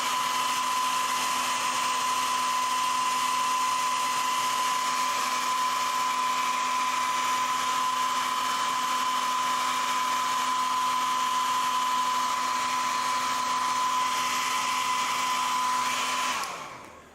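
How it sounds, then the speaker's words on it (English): A hair dryer runs continuously at close range to dry the remaining paint on a painted miniature, a steady breathy roar with a constant motor whine, cutting off abruptly at the end. "let's pull out our hairdryer."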